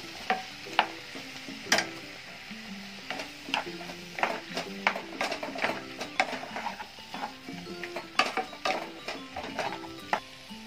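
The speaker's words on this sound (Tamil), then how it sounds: "இப்போ வெங்காய தக்காளி கொஞ்சம் கூட வதங்கட்டும்." Onions and tomatoes sautéing in a pan for aloo Manchurian, with a soft sizzle under frequent sharp spatula scrapes and clacks against the pan at an uneven, busy rhythm.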